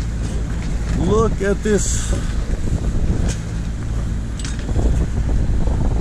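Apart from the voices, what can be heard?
sailboat motor running while sailing downwind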